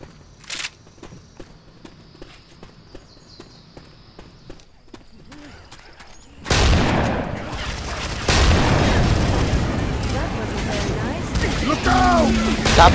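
Gunfire in the video game Left 4 Dead 2: sparse sharp shots at first, then a loud, dense burst of continuous shooting and game noise that keeps going to the end.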